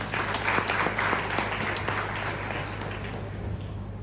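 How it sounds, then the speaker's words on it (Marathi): Audience applause at a motivational talk, steady dense clapping from a large crowd filling the room for several seconds, loud and continuous without speech. "एकदा टाळ्या वाजवत त्याच्यासाठी."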